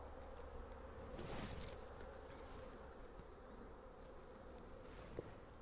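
Bees swarm around active beehives on a farm, a dense, steady insect buzz filling the whole stretch at close range with no voices.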